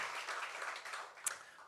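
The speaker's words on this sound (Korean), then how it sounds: "우리 하나님께 영광의 박수 올려드리겠습니다" Congregation applauding during a Korean Sunday church service, a short burst of soft, fairly distant clapping with a sharp louder clap near the end.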